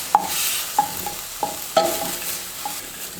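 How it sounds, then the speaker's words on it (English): Pieces being stirred and coated in barbecue sauce in a pan: a handful of sharp scraping knocks at uneven intervals over a soft, steady sizzle. "just get all the pieces here coated with the barbecue sauce"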